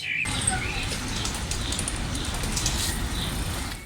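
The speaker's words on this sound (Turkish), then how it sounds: "Kuş seslerini siz de duyuyorsunuzdur muhtemelen" Birds chirp and tweet in scattered bursts in a Bucharest city park over a steady outdoor hum of distant traffic and city noise.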